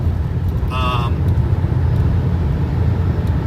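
Tesla Model Y electric car cruising on a road, a steady low rumble of tyres and road noise heard from inside the cabin, with a brief high tone near the start.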